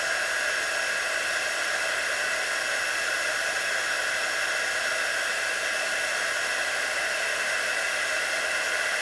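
A hair dryer blows on a hat, a steady, close, even airy whoosh that holds constant from start to finish.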